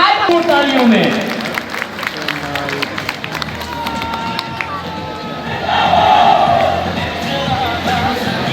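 A crowd at an Independence Day family festival in Pakistan cheers and shouts with scattered clapping, voices rising and falling over a busy noisy background, swelling again toward the end.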